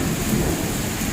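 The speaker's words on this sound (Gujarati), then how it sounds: "વાવાઝોડું જ આવ્યું. જો" Heavy rain roars steadily with a deep low rumble of thunder underneath, dense and continuous with no voices.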